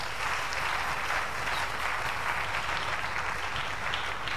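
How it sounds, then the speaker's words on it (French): A church congregation applauds to acclaim the Lord, giving a steady, dense wash of clapping that holds evenly from start to finish with no voices on top. "On acclame le Seigneur."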